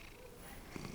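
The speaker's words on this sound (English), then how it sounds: "if you can hear the purring" A cat purrs softly and close by in a quiet indoor space, a faint low rumbling that swells slightly near the end of the brief moment.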